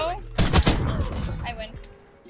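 Sniper rifle fire in a Black Ops 6 match, a sharp loud shot and echoing crack followed by a couple of quick reports that trail off, mixed with a voice and game noise.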